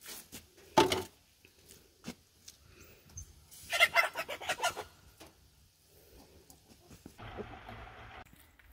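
Chickens cluck and squawk in short bursts, fairly close, with quiet pauses between outbursts and some rustling in the background.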